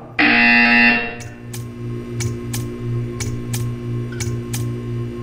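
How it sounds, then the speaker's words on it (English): A loud, harsh buzzer from the video game Portal 2 blares for about a second, followed by a string of sharp, evenly spaced ticks over a low hum. "You will hear a buzzer."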